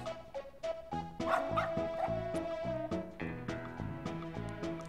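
A dog in the Boot Hill Heroes video game gives a string of short, yipping barks and whimpers over steady chiptune-style game music.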